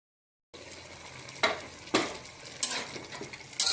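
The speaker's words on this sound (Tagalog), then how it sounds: "Haluin natin at isimmer natin hanggang matuyo yung kanyang tubig." Pork adobo simmering in a pan is stirred with a utensil, soft sizzling underneath and a few sharp scraping strokes against the pan, close and alone.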